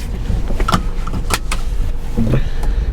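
A car seatbelt is pulled across and buckled inside a moving car, with a few close clicks and webbing rustles over steady cabin and road noise.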